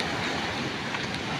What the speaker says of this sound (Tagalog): Yung alon.